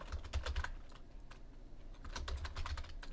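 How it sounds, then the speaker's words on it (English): Typing on a computer keyboard comes in two quick bursts of close, crisp keystrokes separated by a short pause, with no voices. "Now we got to type in Geology Club"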